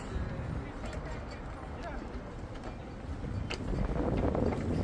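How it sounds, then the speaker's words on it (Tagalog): Steady wind buffeting the microphone outdoors in the Czech Republic in summer, a low rumbling cold gust that swells louder near the end, with voices talking faintly underneath. "Kaya lang medyo mahangin. Dahil malamig yung simoy ng hangin."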